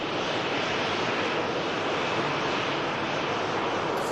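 A Ryanair jet arriving from Dublin at Manchester Airport makes a dense, unbroken rushing roar that stays constant from start to finish.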